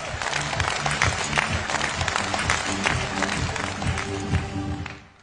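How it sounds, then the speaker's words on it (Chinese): Audience applause at a motivational talk, steady, dense clapping from a crowd lasting about five seconds, with faint background voices mixed in before the clapping ends abruptly. "听众掌声。"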